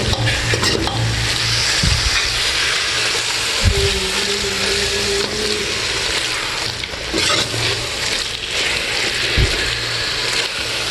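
Pistachio (egusi) sauce cooks in a pan, a steady close sizzle with bubbling, broken by scattered scrapes and knocks of a spoon stirring through it, continuous with no talking.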